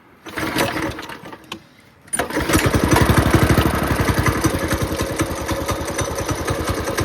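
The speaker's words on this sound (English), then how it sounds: "So we're going to start it up without that hose." A brand-new mini bike's small engine, started without its oil hose fitted, sputters briefly, falls quiet, then catches and runs at a loud, steady idle. The rapid chugging firing pulses are close by and stay strong to the end.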